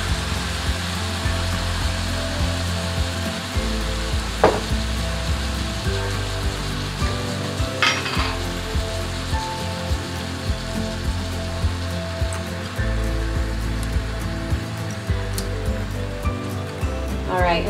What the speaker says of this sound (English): I'm going to add about 4 cups of marinara sauce to the meat mixture.